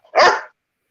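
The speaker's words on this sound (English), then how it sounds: "You are a pest, dog." A dog gives one short, loud bark, close by and alone, over quiet surroundings.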